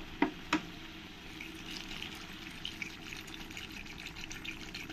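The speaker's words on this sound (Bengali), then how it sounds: "এবার আমি জল দিয়ে দেব।" Chicken curry sizzling in a pan, a brief splash of water added near the start, then a steady low frying hiss with light crackles running throughout, no voices.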